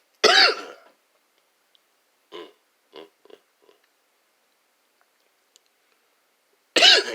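Coughs and throat-clearing: one loud harsh cough burst at the start, a few softer short coughs in the middle, and another loud cough at the end, with quiet gaps between.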